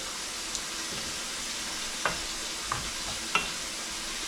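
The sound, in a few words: stirring lechon paksiw with kabuli in a sizzling pan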